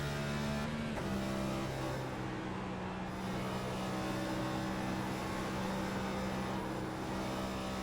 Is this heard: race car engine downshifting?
yes